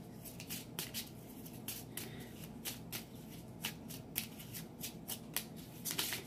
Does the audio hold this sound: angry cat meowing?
no